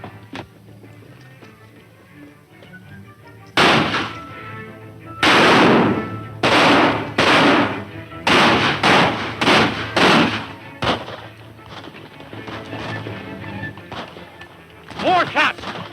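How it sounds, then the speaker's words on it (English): Gunshots ring out during a gang's nighttime attack on a ranch in a 1935 Western serial, a burst of loud, sharp reports in quick succession after a quieter stretch, with a voice talking in the background. "More shots. It's an attack on the ranch."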